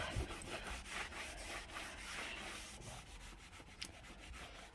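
Small two-sided scrubby brush and microfiber cloth scrubbing a surface while a master bedroom is cleaned, giving a steady, close, continuous rubbing scratch with faint rhythmic strokes and no talking.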